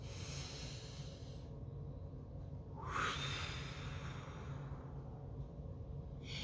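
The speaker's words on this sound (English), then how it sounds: "take 3 deep breaths" A slow, deep breath drawn in through the nose during a guided breathing exercise, rising in a soft airy rush around the middle over steady low background hum.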